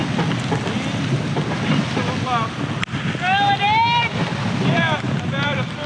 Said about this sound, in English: The winds, the waves, the rain, plus our gear make hearing each other a bit difficult.